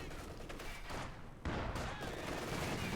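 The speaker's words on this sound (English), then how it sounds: "Machine gun suddenly being hammered here." Machine gun fire in Company of Heroes 2 rattles in dense, overlapping bursts, first moderately loud and then heavier after a sudden jump, over a constant battlefield din.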